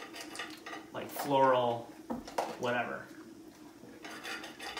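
A dog eating from her food bowl, kibble clinking and scraping against the dish in a few rattling bursts, with people talking quietly alongside.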